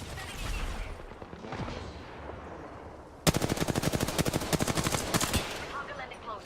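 Automatic gunfire in the video game Apex Legends rattles out in a fast, loud, evenly spaced burst of about two seconds, coming after a stretch of quieter game noise and ending abruptly.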